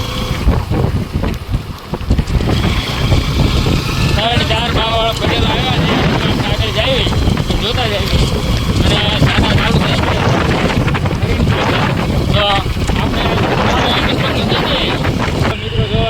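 Strong storm wind on a road buffets loudly and continuously, roaring and gusting with rattling noise throughout, and a voice speaks under it at times.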